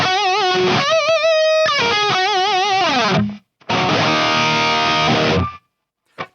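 Dry electric guitar lead through an amp-model player with no effects: sustained, bending and vibrato notes with distorted harmonics, then a strummed chord ringing out, fairly loud and alone, with abrupt stops between phrases.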